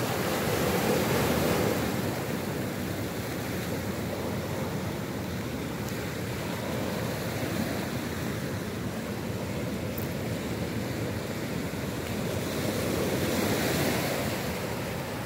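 Ocean surf breaks continuously at the Soetwater surfing spot and slipway near Kommetjie, a steady broad roar of waves with wind buffeting the microphone, and no voices.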